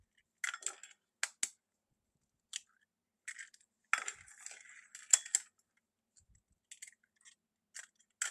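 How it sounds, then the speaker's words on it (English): Six eggs being cracked one by one for a vanilla Victoria sponge cake, sharp isolated taps and shell cracks in short clusters spread across a quiet kitchen, close and fairly faint. "We'll start by just breaking the eggs."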